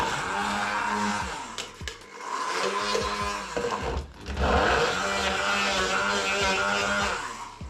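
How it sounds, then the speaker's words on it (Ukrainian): An electric blender chops ginger in a commercial kitchen, its motor whirring in a few loud bursts that dip briefly between runs. "Зараз цей імбир теж переб'ємо"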